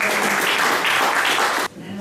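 Audience applause at a poetry recital for Women's Day, a dense even wash of clapping that cuts off abruptly near the end, followed by a brief pause.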